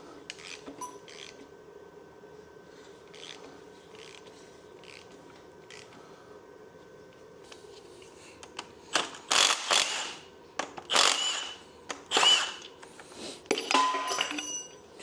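Engine crankshaft turned over by hand with a ratchet wrench, a soft faint mechanical clicking at first, then several loud, sharp bursts of ratcheting in the second half.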